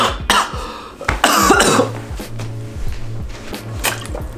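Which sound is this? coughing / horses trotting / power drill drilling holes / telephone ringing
coughing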